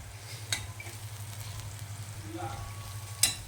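Poha tempering with turmeric stirred in, frying in a pan: a soft, even sizzle with a low hum beneath and a couple of light spoon clicks, quiet and close.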